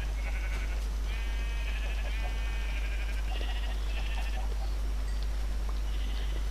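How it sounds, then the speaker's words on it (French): Sheep bleat repeatedly in the blocky survival game Hard Craft, several wavering cries at moderate distance over a steady, noisy low hum, with no one talking. "Alors déjà un mouton, oui."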